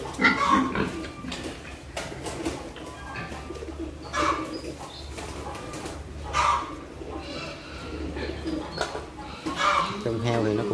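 Herd of eleven pigs on a family farm grunting and snorting in a busy, uneven stream, with bird-like coos mixed in and a person talking over the animals throughout.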